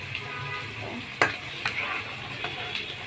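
Chicken khichuri with vegetables spits and bubbles in a pot over lowered heat, with a close, continuous sizzle and a few sharp clinks or spatters.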